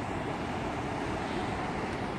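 The Ganga flows at Rishikesh, a steady, soft broadband rush of the stream that stays even and unbroken, fairly faint, with no voices over it.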